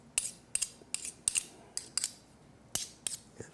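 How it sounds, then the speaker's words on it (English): A tasting spoon scrapes boiled chicken gizzards out of a cooking pot, giving about a dozen short, sharp metallic clicks and scrapes in an uneven rhythm, close up, with nobody speaking. "I'll use my tasting spoon to get this out of here"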